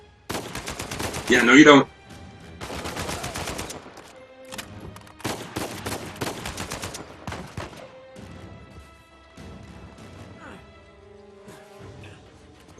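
Enemy gunfire in Uncharted 4, repeated bursts of automatic shots in clusters separated by short pauses, loud and close, with a person talking briefly among the shots.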